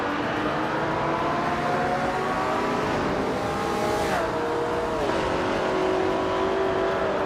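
A 1967 Plymouth GTX racing in a video game, its engine holding a steady loud drone that climbs and drops in pitch through gear changes and corners, with no talking.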